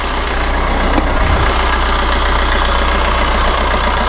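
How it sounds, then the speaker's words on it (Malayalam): A Maruti Ertiga engine idles steadily after a coolant and engine oil change, with a close, even low rumble and constant hum that holds throughout without talk. "ഞാൻ ഏകദേശം ഒരു 5 മിനിറ്റോളം വണ്ടി സ്റ്റാർട്ട് ചെയ്ത് കിടക്കട്ടെ"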